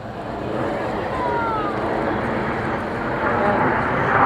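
A display jet roars overhead during a vertical break manoeuvre at an air show, a broad sustained rumble that swells slightly as it passes, loud and somewhat distant.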